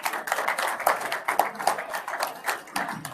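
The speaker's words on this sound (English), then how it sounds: "big round of applause" Scattered clapping from a modest audience at a technology summit, an irregular series of hand claps rising and falling over a few seconds, with faint tonal beeps in the background.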